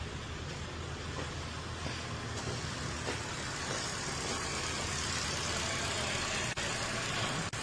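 A Ford car engine idles steadily at close range, a continuous low hum with a faint rattle throughout and no voices.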